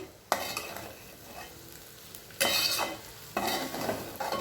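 A spoon scrapes and stirs through amaranth leaves frying in a pan as chili powder is mixed in, with three bursts of stirring over a constant soft sizzle.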